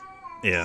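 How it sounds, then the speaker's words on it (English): A pet cat meows loudly and close by, a single drawn-out call that cuts in after a brief spoken word. "That's my cat right now."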